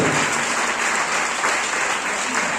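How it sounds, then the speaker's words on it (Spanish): A congregation applauding steadily during a church service, dense clapping that holds at an even, fairly loud level throughout with no voices on top. "Den un aplauso al Señor"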